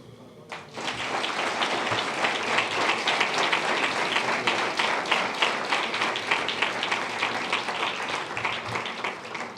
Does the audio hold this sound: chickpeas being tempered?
no